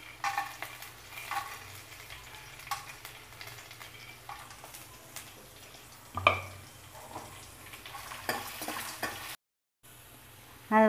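Dried turkey berries fry in a little oil in a pan, giving a quiet, low sizzle with faint crackles and occasional spoon scrapes. A short silent gap falls near the end, with no talking.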